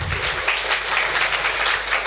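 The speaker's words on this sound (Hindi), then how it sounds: "चलिए एक बार ज़ोरदार ताली," Loud, dense audience applause fills a hall at a business seminar on Kangen water, sustained and even throughout with no talking over it.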